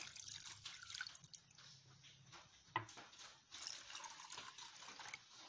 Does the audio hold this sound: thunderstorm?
no